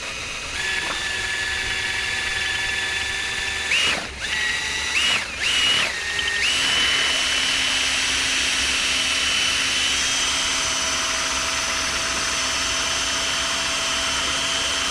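An electric drill powers a kayak, whining loudly and continuously with a few brief dips in speed early on before settling into a sustained high-pitched drone.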